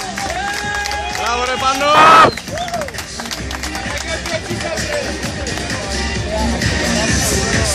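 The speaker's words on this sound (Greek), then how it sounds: "Χειροκροτήστε το." Applause and cheering from the crowd at an armwrestling competition, clapping rising briefly to a loud burst and then tapering off while an announcer and others talk over the hubbub.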